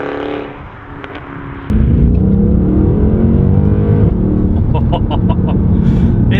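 A Mercedes C63 AMG engine on the road, loud and close: a lower hum first, then a sudden step up into a sustained, strong rev that holds steady under the cabin, with brief rattling ticks near the end.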